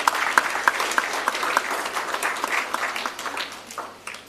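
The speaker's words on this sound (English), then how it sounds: "Once again, a round of applause for the acting DG." Conference audience applause for the acting DG, a full round of clapping with some distinct sharp claps near the start, continuing steadily and easing off slightly toward the end.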